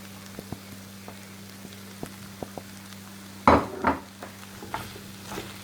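Chicken filling with green chili and coriander cooks in a pan over low to medium heat, a faint steady sizzle with scattered light ticks and a couple of louder stirring scrapes, a low hum beneath.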